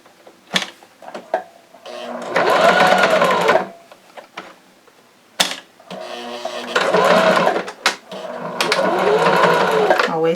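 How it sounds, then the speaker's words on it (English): A sewing machine runs a straight stitch on a fabric face mask in several close, loud bursts of rapid whirring, with short pauses and clicks between runs. "Make sure you have your sewing machine back on straight stitch."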